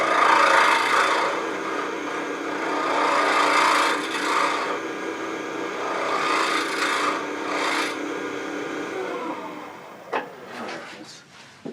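The bottom of a turned wooden bowl is faced off with a scraping tool, giving a loud, close, rasping scrape in long sustained strokes. It tapers off near the end and finishes with a few light knocks.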